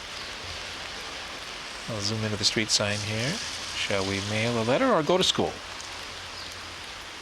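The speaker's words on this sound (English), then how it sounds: "Well, it is raining, but who cares?" Rain falls on a Paris street as a steady, even hiss under a voice, which talks through the middle of the stretch while the wash of rain carries on alone before and after.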